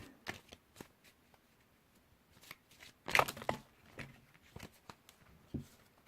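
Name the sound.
shuffling a Yu-Gi-Oh card deck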